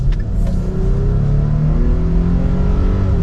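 A 2024 Nissan Frontier PRO-4X pickup engine hums loud and low, its tone rising steadily as the truck accelerates, heard from inside the cab.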